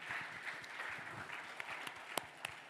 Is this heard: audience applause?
yes